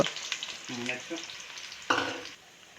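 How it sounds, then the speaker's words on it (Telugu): Onions and green chillies sizzle in hot oil while a ladle stirs and scrapes them around the pan in short bursts, close and moderately loud. "మరియు పచ్చిమిర్చి దోరగా వేగేంత వరకు గరిటతో తిప్పుతూ ఉండాలి"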